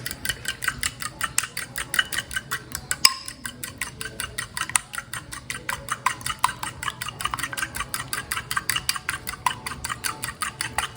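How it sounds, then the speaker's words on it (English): A fork whisks eggs in a bowl for French-style scrambled eggs, producing a fast, steady run of close, bright clicking strokes against the bowl throughout, with one brief pause and no talking. "You just want to use a fork because you want to put a little air."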